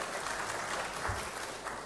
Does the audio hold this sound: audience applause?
yes